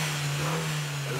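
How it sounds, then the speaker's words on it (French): A car engine held at high revs in town, a steady, loud droning hum that stays constant throughout with no speech. "utilisation en agglomération du moteur à des régimes excessifs"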